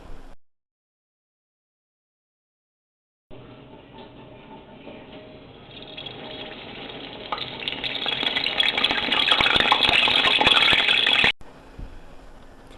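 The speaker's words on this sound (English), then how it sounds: "you just put it into the oil and deep fry it until it's golden brown" Alcapurrias deep frying in hot oil, a steady bright sizzle that swells louder over several seconds after a silent gap, then cuts off abruptly near the end.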